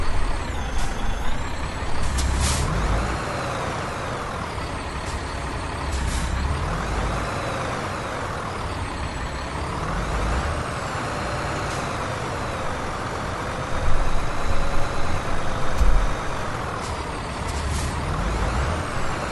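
Heavy truck backing up in American Truck Simulator, a Mack Pinnacle, with a steady low engine drone, air brake hisses and faint reversing beeps, loud and continuous with no talking.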